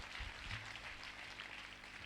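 A church congregation applauds during an evening worship service, a steady wash of clapping that holds evenly through the whole moment without pauses.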